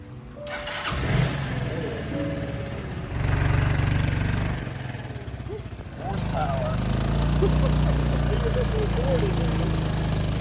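A 1996 Honda Helix scooter, a barn find, starts and settles into a steady small-engine idle, the pitch rising a little partway through, with a voice talking over it.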